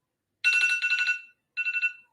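An electronic alarm rings in two bursts of rapid trilling tones, the first about a second long, then a pause and a shorter repeat, clear and close against silence.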